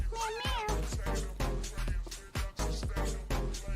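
A cat meows repeatedly and close by, its rising and falling cries standing out over a voice talking to it in a playful, affectionate tone throughout.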